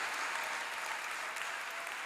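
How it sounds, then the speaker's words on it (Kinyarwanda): Steady, dense applause from a church congregation fills the space, a continuous even roar of many hands clapping with no pauses. "Dukomera Imana amashyi kandi ndanashoje."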